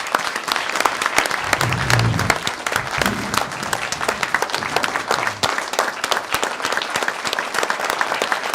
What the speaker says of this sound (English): give a big round of applause to Jack for the wonderful job that he does